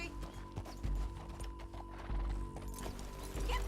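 A horse in the Red Dead Redemption 2 video game clip-clops with close, rhythmic hoof beats, joined by a short whinny and some faint mechanical clicks of tack.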